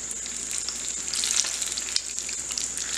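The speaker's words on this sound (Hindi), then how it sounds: "तेल हमारा अच्छा गर्म हो चुका है, ये मिर्चों को डाल देते हैं इसमें दोबारा।" Jodhpuri mirchi vada, battered green chillies, deep-frying in very hot oil over a high flame: a continuous bright crackle and sizzle with small pops scattered throughout, close and steady, no talking.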